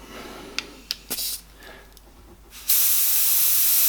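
Airbrush releasing a steady hiss of fine paint mist, starting abruptly after a few faint clicks and short bursts, then continuing loud and even to the end.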